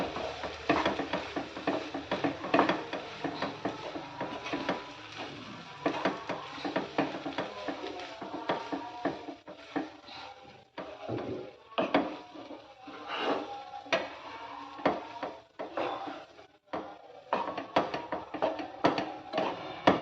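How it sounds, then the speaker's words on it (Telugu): Tomato rice with masala being stir-fried in a pan, a spoon scraping and stirring in quick irregular strokes over a soft sizzle, close and fairly quiet, with no talking. "అందుకని ఈ విధంగా ఒక 2 to 3 మినిట్స్ బాగా ఫ్రై చేసుకోవాలి మనం"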